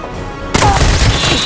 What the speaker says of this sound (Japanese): すごい銃声してんな